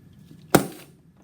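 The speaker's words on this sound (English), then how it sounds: "That is a fun way to crush cans." A heated Diet Dr Pepper can slammed upside down into water with tongs crushes in a single sharp, loud implosive pop, with a short decaying rush after it and no talking.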